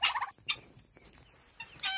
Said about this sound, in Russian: Моя индюша, индюша.